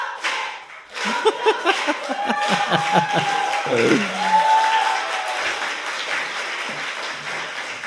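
A studio audience claps loudly and steadily over several seconds. Cheering, laughter and people talking come through beneath the applause.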